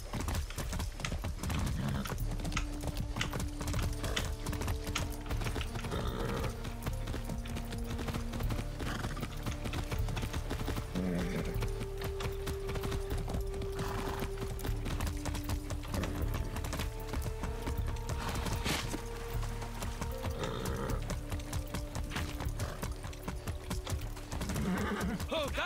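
Horse hooves clip-clop in a rapid, steady rhythm while riding in the video game Far Cry 6, with tonal game music and effects running underneath.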